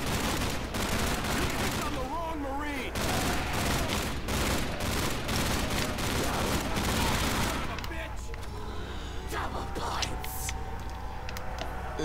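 Rapid, sustained gunfire from a weapon in a Call of Duty: World at War custom zombies map called Hotel, with loud dense bursts for several seconds before thinning into sparser shots and game effects.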